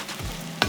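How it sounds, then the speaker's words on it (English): A brief stir of spiced eggplant with chopped tomatoes, chilies and nutmeg in a pan, soft sizzling and a single scraping stroke near the end. "Give this all a stir."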